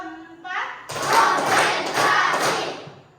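Children clap their hands in a classroom counting game, a few short sharp bursts of close group clapping that follow a brief spoken call.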